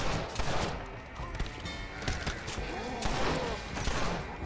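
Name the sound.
pistol gunfire in a cowboy video game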